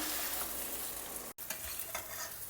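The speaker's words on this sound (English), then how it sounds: "And toss everything very well together." Idli pieces tossed and stirred with podi powder in a pan, a steady close scraping and rustling hiss that cuts out briefly midway.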